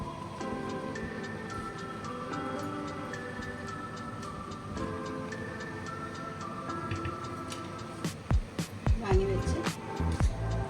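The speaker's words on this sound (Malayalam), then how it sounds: "കടുക് പൊട്ടി" Mustard seeds splutter in hot oil while a ripe mango pulissery is being made. Scattered ticks turn into a burst of sharp, close pops near the end, over a low background voice and hum.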